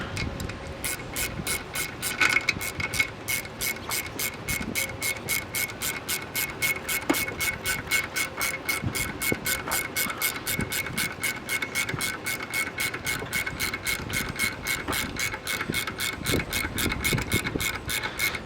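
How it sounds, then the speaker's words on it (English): A screw is tightened down on a valve spring compressor tool on a 1999–2004 Mustang GT engine, giving a long run of steady, evenly spaced ratcheting clicks that continues throughout at close range. "Tighten the screw down."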